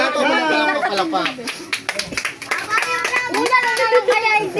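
A group of children clap in quick, scattered bursts amid excited chatter and shouting, close and loud, with a voice talking over the clapping.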